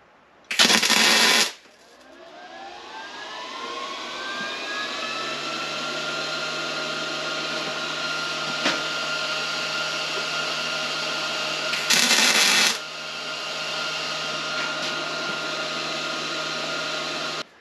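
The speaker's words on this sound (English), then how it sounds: "I hit it with the grinder" A power grinder works on a part for a Stromberg 97 carburetor install on a 1937 Ford. It spins up to a steady, high whine, with loud, harsh bursts of grinding near the start and again later.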